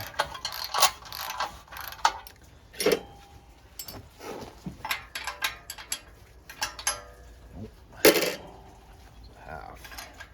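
A socket wrench clicks in short irregular bursts on exhaust manifold bolts of a 1968 Ford F-100, with metallic clinks and tool handling in a quiet garage.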